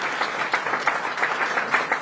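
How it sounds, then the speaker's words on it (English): A small team of about nine people claps from within an event audience, giving steady, moderately loud applause with a dense patter of hand claps and no voices over it. "That's their own team clapping around."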